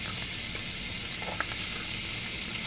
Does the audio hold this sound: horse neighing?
no